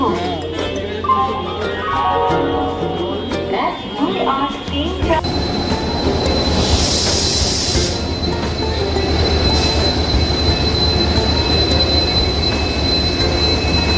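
Trains at Howrah railway station platform rumble and grind along the rails, with a loud, high metallic wheel squeal partway through and people talking over the din.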